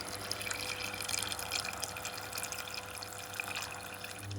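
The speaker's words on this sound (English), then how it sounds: "Then we will add the coconut water until it covers the meat." Coconut water pouring steadily into a cooking pot over pork belly, a soft continuous splashing trickle, faint and close, with no talking.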